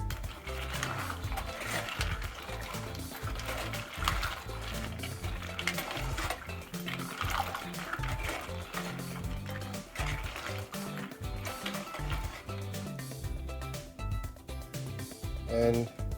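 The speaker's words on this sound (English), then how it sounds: "And with this, we will give it a stir." Soybean chunks stirred in a pot, with a constant clatter of spoon against metal and sloshing liquid, busy and close, and faint background sounds underneath.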